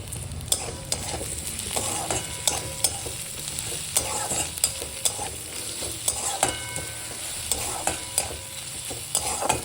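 Capsicum frying in a pan, a constant close sizzle broken by regular scraping and clinking strokes of a spatula stirring it, rhythmic and clear with no voices.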